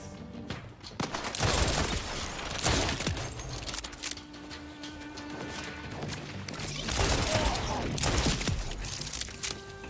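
Rapid bursts of gunfire in Borderlands 4 on PS5, loud sharp volleys with clattering impacts and crashes scattered through the stretch, alongside occasional speech.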